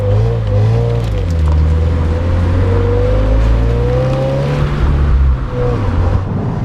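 A 2021 Subaru WRX with a manual gearbox revs hard and pulls loudly and steadily, its engine pitch climbing and sliding through the rev range alone without any talk.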